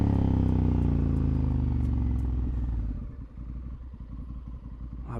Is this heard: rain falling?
no